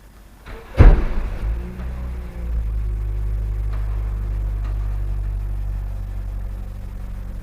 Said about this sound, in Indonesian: Jadi kita coba nyalain untuk mesin dari mobil ini.